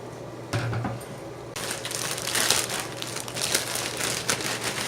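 Chopped onion and mushrooms tossed into a trash can for nachos, a close crinkling, rustling clatter of food landing in a bin, continuous after a brief soft knock.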